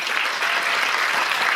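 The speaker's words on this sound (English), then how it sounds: "So round of applause for you guys." Audience applause at a mental health support event, a dense, even roar of many hands clapping that carries on unbroken and loud throughout.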